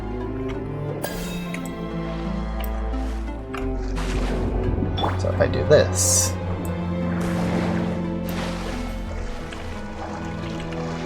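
Watery sloshing, drips and splashes follow a game character moving through water, with bursts of louder splashing near the middle, while a person talks over part of it.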